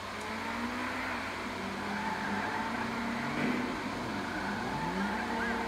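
In GTA 5, a fast car drives along with a steady engine drone that rises and falls as it shifts, heard at moderate loudness under the game's ambient noise.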